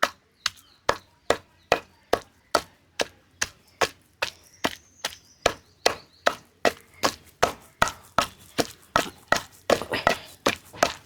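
Small onions pounded in a stone mortar for tamarind chutney, a steady run of about thirty crisp, evenly spaced thuds that speed up slightly toward the end, close and clear with no talking.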